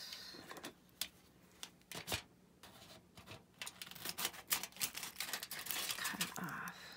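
Sharp clipped snips and crinkling as a small piece of thin craft foil is cut off for steampunk paper ephemera, a run of quick crisp bursts up close with no talking.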